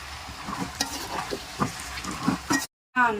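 Frozen chopped onions fry in a pan with a busy, crackling sizzle and stirring scrapes up close. A brief cut to silence follows, then a short burst of other sound.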